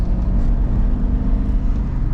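A 1998 Chevy Tahoe 4x4 with 97k miles driving on a road, giving a steady, loud low engine and road rumble with tire noise that continues without a break.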